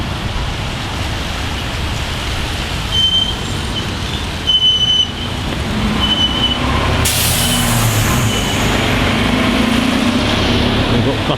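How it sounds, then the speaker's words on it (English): Buses rumble into a bus station in Derry with steady engine and road noise, a hiss of air brakes releasing partway through, while someone talks nearby. "We've got buses coming in all directions there."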